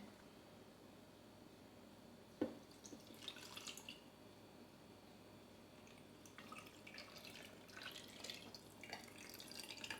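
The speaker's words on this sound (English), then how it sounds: "Now we're gonna pour the brine in." Pickling brine pours and splashes into a jar of eggs and dill, with a sharp clink near the start and bursts of trickling liquid, fairly close and quiet.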